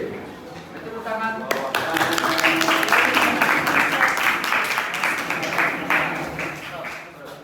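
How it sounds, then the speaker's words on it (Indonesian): A classroom audience claps after a student group's religion presentation, dense applause bursting in around the one-and-a-half-second mark and continuing steadily before tapering, with voices faintly mixed in. "Tepuk tangan."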